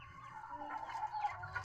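A three-month-old Incho Gigante chicken clucks softly at close range in a short burst of low, throaty calls, with no voices over it.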